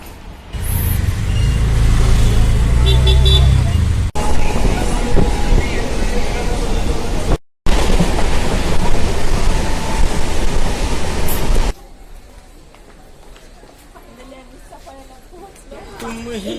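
A suburban local commuter train in Maharashtra rumbles and rattles loudly along the tracks for several seconds, then cuts to a quieter scene with voices talking.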